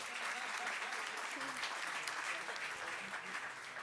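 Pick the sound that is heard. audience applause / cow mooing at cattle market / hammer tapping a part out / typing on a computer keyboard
audience applause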